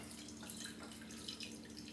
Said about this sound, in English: Now I pour the hot water